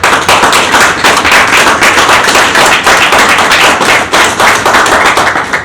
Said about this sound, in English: let's take this opportunity to give them a round of applause